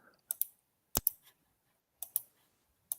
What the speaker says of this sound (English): I'm clicking my mouse.